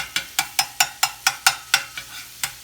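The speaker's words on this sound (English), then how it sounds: "So we scramble our sausage up and it looks all pretty" Sausage scrambled and broken up in a frying pan, a steady series of about ten sharp scraping stirs against the pan, close and even in rhythm, with a soft sizzle underneath.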